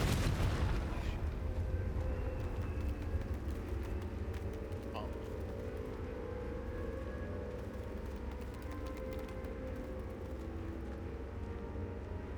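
A Confringo spell blast in Hogwarts Legacy, one sharp explosive boom at the start that rumbles and fades, with a person talking over the game audio.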